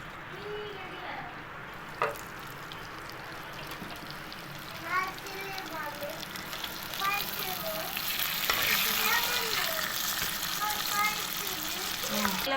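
Fish curry with coriander powder and fresh coriander bubbling and sizzling in a pan, a steady close simmer with stirring scrapes, while a person talks over it throughout.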